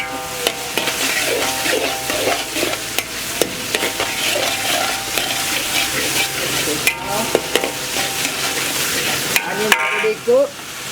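Onions fry in a hot pan with a steady, loud sizzle, while a utensil stirs and scrapes with intermittent clinks; a few sharper scrapes come near the end, and no voice is heard.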